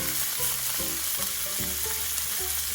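Butter and rosemary melt in a hot pan, a steady crackling sizzle with stirring scrapes and soft bubbling pops throughout, close and fairly quiet.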